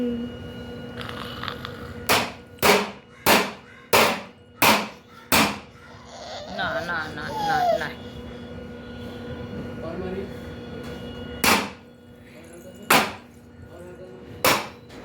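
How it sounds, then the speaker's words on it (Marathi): Sharp, loud hammer blows strike in a steady series during window work inside a house, pause while someone speaks, then resume with a few more spaced-out knocks. "इथे बघा घरामध्ये ते काही ठोकाय ठोकण्याचं काम चालू होतं"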